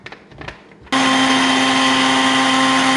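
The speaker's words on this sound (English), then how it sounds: "And now I'm just gonna blend all of that up." After a moment of quiet handling noise, a blender kicks in on nut milk with water, vanilla and a dash of salt, holding a loud, steady, high motor whine close by until it cuts off.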